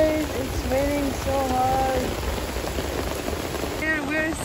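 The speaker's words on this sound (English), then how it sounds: "Look at the rain, guys. It's raining so" Heavy rain falling in a dense, continuous hiss, with people talking over the downpour throughout.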